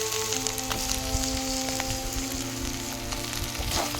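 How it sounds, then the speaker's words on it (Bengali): Deshi chicken cooked in a handi fries with ginger paste, salt and tomato, crackling in a continuous close sizzle with occasional stirring scrapes over a faint steady hum. "দিয়ে এবার কিছুক্ষণ এটাকে কষিয়ে নেব"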